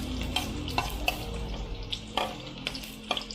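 Onions sizzle in a hot pan for chicken adobo, close and steady, while a spatula stirs them in quick irregular scrapes and knocks.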